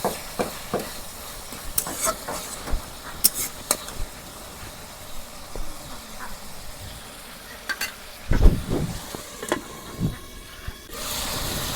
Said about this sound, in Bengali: এই দেখো টমেটোর আমি ভাজা নিতেছি, পানি দিই নাই একটু